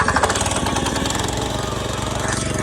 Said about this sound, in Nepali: र स्टार्ट भइसक्यो ट्र्याक्टर